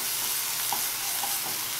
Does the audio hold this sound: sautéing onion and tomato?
yes